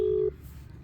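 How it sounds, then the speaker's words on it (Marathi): A phone on speakerphone sounds one steady, fairly loud tone that cuts off abruptly after a moment, leaving low room noise behind and no talk. "साधा कॉल लाव."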